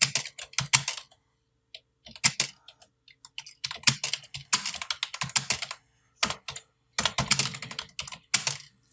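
Typing on a computer keyboard while composing Urdu text in InPage: close, crisp key clicks come in quick bursts separated by short pauses, with no talking.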